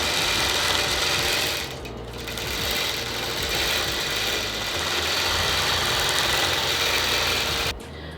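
A longarm quilting machine stitches an embroidery quilt with a steady mechanical whir and rapid needle chatter, close and continuous, dipping briefly in level before cutting off near the end.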